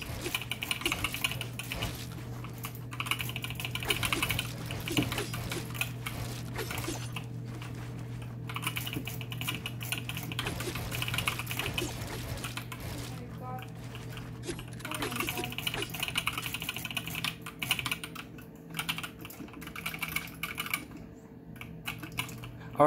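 Rapid, continuous clacking of a GK61 mechanical keyboard with light yellow switches, dense fast typing with a steady low hum underneath and faint voices now and then.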